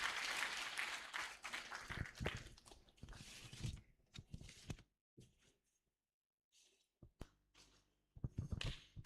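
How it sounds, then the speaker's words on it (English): An audience at a national conference on democracy and elections claps, dense applause at first that thins out into scattered claps and quiet gaps before a final short burst, all fairly distant and faint. "We can do better with the clapping, please, as she comes forward."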